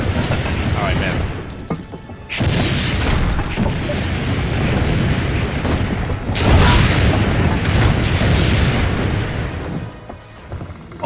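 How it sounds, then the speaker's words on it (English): Cannon fire in Assassin's Creed: Brotherhood booms in loud, repeated blasts over a continuous rumbling din, with several sharp bursts standing out from the heavy battle noise. "A lot of cannons. Oh, it's just all explosion."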